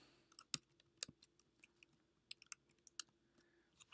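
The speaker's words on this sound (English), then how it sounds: "I would simply type in her name," A name being typed on a computer keyboard: quiet, close key clicks in an uneven run of single taps and short clusters, with no talking.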